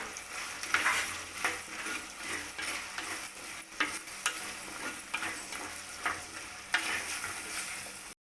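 Ginger garlic paste fries with prawns and salt in a pan, a soft, close sizzle running under repeated scraping stirs and light utensil clinks.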